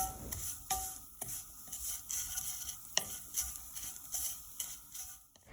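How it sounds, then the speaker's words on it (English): Semiya payasam mixture with nuts stirred in a pan, repeated scraping strokes and light clinks of the spoon against the pan over a soft sizzle, close and moderately loud. "We're going to continue stirring."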